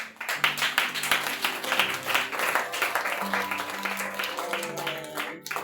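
Congregation applauding during a church worship service, steady clapping with a musical backdrop and sustained tones, continuous and fairly full for several seconds before dropping off at the end.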